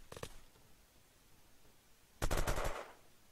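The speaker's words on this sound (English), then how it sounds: "Okay, I hear many shots." Gunfire in the video game Unturned: a short burst of rapid shots, a quiet pause, then a louder, longer burst of automatic fire close by.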